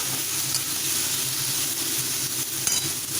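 Pumpkin and potato chunks frying in a pan with turmeric sprinkled over them, stirred as they cook: a steady close sizzle and hiss throughout, with a faint scrape of stirring and no talk.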